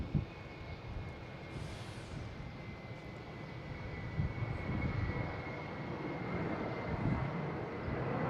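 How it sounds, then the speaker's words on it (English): A JetBlue Airbus A321 airliner at Boston Logan produces a distant, steady engine hum with a faint high whine, swelling gradually louder through the second half. "We have a JetBlue heading to Phoenix. A321, flight 302, 303"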